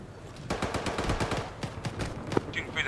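Rapid automatic gunfire in the military shooter Arma 3, fired through a wall, a loud close burst of sharp cracks in quick succession lasting about two seconds before tapering off.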